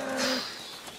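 A cow gives a single short, low moo near the start, then it fades into quiet outdoor farm ambience.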